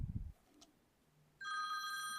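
A telephone rings during a lecture. After a short bit of voice and a quiet pause, a steady, close electronic ring starts and continues.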